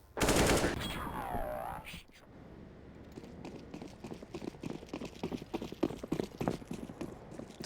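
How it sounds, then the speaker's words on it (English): A burst of AK rifle fire in Counter-Strike on the Vertigo map, followed by quick footsteps and scattered shots as a caster talks over the action. "And there was that AK put to use by Nodios."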